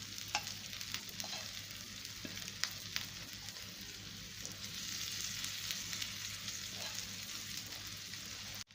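Vegetables go onto a hot chicken sizzler plate, raising a steady, close sizzle and crackle that runs unbroken with occasional stirring clinks and no voices.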